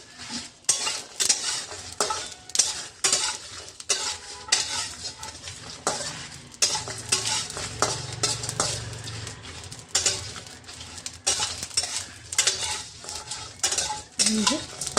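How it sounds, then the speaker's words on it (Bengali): Spices dry-roasting in a dry wok are stirred with a metal utensil, giving repeated close scraping and tapping strokes in an uneven rhythm over a faint crackle, with a low hum underneath. "এটাকে শুকনো কড়াতে ভালো করে একটু নাড়াচাড়া করব"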